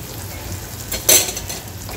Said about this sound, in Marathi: आणि यामध्ये आता आपण हे फेटलेलं अंड्याचं सारण घालून घ्यायचं आहे.